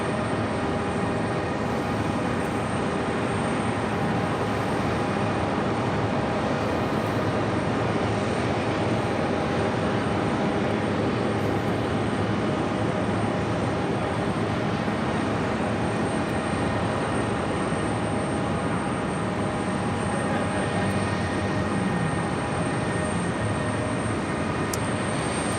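Air India Boeing 777-200LR jet engines spooling up at JFK, a steady broadband roar with a high whine, loud and continuous throughout with no voices.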